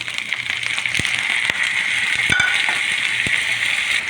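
Tomatoes sizzle and fry in a pan for a rohu fish bhuna, a steady close hiss with a few sharp clicks from the utensil against the pan.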